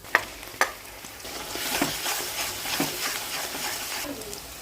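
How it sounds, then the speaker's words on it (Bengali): Onion frying in hot oil gives a steady, close sizzle with a couple of sharp clicks near the start and light stirring scrapes, no talk over it. "তো আমি তেল গরমে পেঁয়াজটা দিয়ে দিয়েছি"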